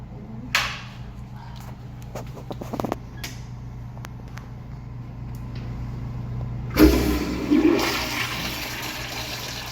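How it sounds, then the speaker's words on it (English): A toilet flushes with a sudden rushing gush of water that swirls and drains away, following quieter room noise and a few faint knocks. "That's a powerful flush, though."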